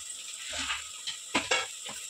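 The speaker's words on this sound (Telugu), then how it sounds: "ఒక స్పూన్ అల్లం పేస్ట్ వేసి కలిపేసుకున్నాం ఫ్రై చేసుకున్నాం" Ginger paste sizzles in hot oil with onions and green chillies in a pan, a soft steady hiss broken by a few sharp scrapes and clinks as it is stirred.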